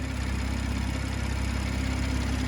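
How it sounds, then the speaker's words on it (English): A steady low idle from a BMW M140i straight-six twin-turbo engine rumbles close by, smooth and even with a constant hum, no voices. "So this is the straight 6 twin power turbo engine."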